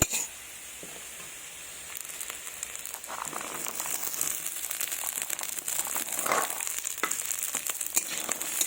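Green peas tossed into a pan of nearly browned potatoes, frying with a steady close crackle and soft crinkling scrapes that swell slightly toward the end, with no talking.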